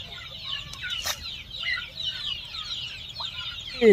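Young chicks cluck and peep softly while water, with ginger added to keep them from falling ill, is poured out for them. The scattered calls are faint and close, and a louder, brief sound comes at the very end.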